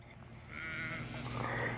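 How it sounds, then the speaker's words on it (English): Sheep on a farm bleat near a fence, a wavering, sustained cry rising over a low steady rumble of background noise, moderately faint. "Yeah, sheep."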